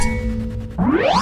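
A notification bell rings once, a bright sustained ding with a rising chime sweeping upward near the end, loud and alone without any talking.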